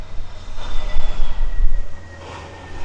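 A Jetstar Airbus A321neo jet lands at Gold Coast Airport with a loud, steady engine roar that swells and eases slightly, heard close and with no talk over it.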